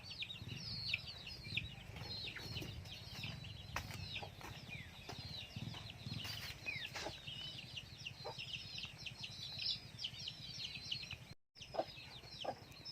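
Domestic village chickens clucking and chirping around feeding time, with a steady busy chorus of close and farther birds, brief wing flaps and rustling, continuing almost unbroken before a short drop-out.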